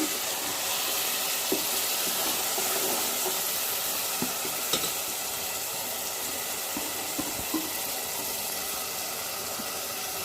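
Spice masala cooks with soft tomato in a pan, a strong continuous sizzle up close with occasional light clicks of a spoon against the pan.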